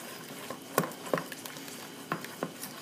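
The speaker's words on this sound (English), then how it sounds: "mix this up real good. You want to get all the lumps out, so just mix and mix and mix and mix" Zeppole batter being stirred with a wooden spoon to work out the lumps, giving soft, irregular wet slaps and scrapes close up against the bowl, with no talk.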